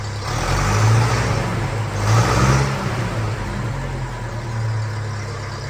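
A Honda CRF 300L dirt bike engine on a farm runs close and loud, its steady drone swelling in a couple of brief revs before settling back to a constant hum.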